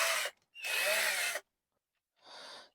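A rotary engraving hobby tool whirs in three short bursts, a high whining spin that starts and stops, loud and close.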